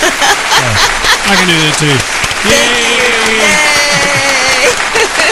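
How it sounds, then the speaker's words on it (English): A live podcast audience gives sustained applause for a guest, with cheering and voices over the steady clapping; a singer or host speaks briefly amid the crowd noise. "I'm going to give her applause first"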